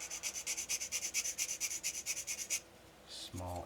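Quick, even strokes of a sanding stick rasping against a small plastic edge of a C6 Corvette build, close and rhythmic for a couple of seconds, then stopping.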